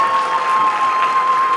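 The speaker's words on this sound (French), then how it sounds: "Applaudissements pour cet artiste." A gala audience at the 8th Jeux de la Francophonie partners' event applauds an artist with steady, continuous clapping that fills the whole moment, a faint constant tone running beneath it.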